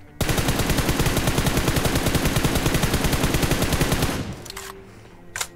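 Gunfire from the BGMI mobile battle royale game: a loud, rapid full-auto spray of evenly spaced shots lasting about four seconds, then stopping abruptly, followed by a few faint clicks and a brief thud.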